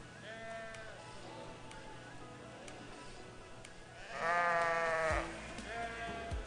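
Sheep bleat repeatedly in a championship class of mature ewes with twin lambs at a 4-H beef and sheep show in Olds, Alberta, with one loud, close, sustained bleat standing out over steady barn noise.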